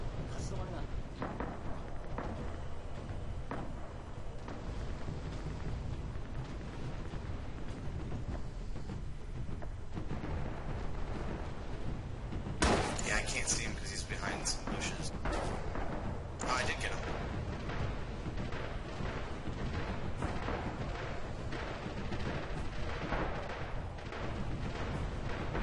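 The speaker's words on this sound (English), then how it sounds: "That's enemy Arty incoming" Enemy artillery fire in the video game Rising Storm, distant booms and rumbling blasts under a continuous battlefield din, with a louder crackling burst midway and players talking throughout.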